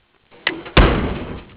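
Door of a 1954 Dodge pickup truck, opened with a short metallic click and then shut with a loud, solid thud close by, the slam ringing briefly.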